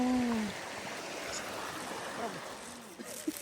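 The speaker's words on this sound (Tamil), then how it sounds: "ஓ இது அப்போ ஃபால் சவுண்ட்." A waterfall heard as a steady broad rush of falling water, with voices talking over it at the start and a few brief sounds near the end.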